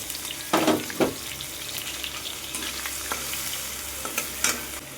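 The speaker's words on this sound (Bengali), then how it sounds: "কড়াইতে তেল গরম হয়ে গেছে, এই যে কুচনো পেঁয়াজগুলো আছে দিয়ে দিলাম" Chopped onions hit hot oil in a wok and fry with a steady crackling sizzle, punctuated by a few sharper bursts of stirring and splatter, close and without talk.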